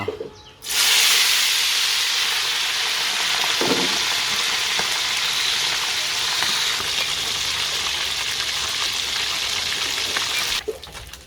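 Small fish frying in a pan for breakfast: a steady, loud, close hiss and sizzle of hot oil that runs without break, with a faint clink partway through and no talk.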